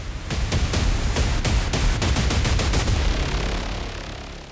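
Rapid series of loud, sharp blasts and cracks over a dense, continuous rumble from Iranian missiles striking Haifa, fading slightly at the end.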